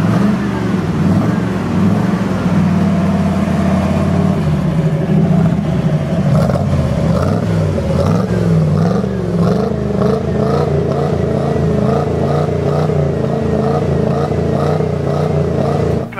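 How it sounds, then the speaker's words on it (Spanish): An old car with a powerful V8 engine idles loudly and close up, its low rumble giving way to rhythmic revving and throttle blips in the second half, with no talking. "tenemos un motor muy poderoso que es un V8"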